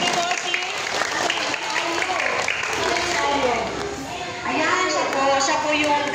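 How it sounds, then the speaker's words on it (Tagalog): A crowd at a barangay gathering applauds its captain with steady, dense clapping that fills the whole stretch, while a voice speaks over it and children can be heard in the mix. "bigyan nyo nga po siya ng masigabong palakpakan"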